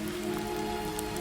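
Soft rain falls steadily, a faint, even patter of drops on a surface with a gentle continuous hiss and no voices.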